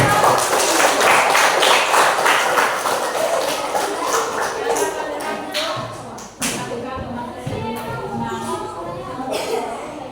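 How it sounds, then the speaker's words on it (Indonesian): Children clapping their hands together in a classroom, a dense burst of many small palms that fades into scattered taps and shuffling with voices underneath. "Tepuk tangan teman-teman"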